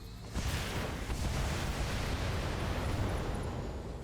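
HE missiles slamming into a mech in the BattleTech video game, a sudden loud blast followed by a sustained, rumbling roar of explosions that stays heavy and close for several seconds.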